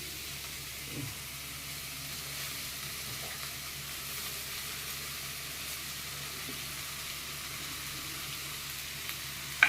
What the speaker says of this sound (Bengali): আলু সেদ্ধটা দিয়ে সেখানে নাড়ি একটু লঙ্কা কুচানো দিয়ে দিই